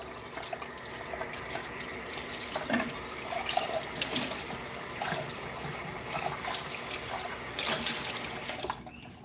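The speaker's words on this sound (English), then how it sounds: "Gotta wash another dish." Running tap water gushing steadily into a kitchen sink while a dish is washed, with faint clinks of the dish over the continuous flow, heard close and without talk.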